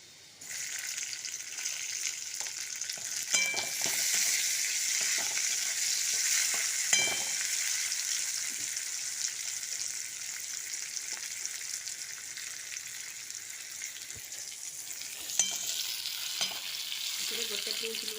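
Onions fry in a pan with a loud, steady sizzle that runs unbroken throughout, close up, with occasional scrapes and clinks of stirring over it.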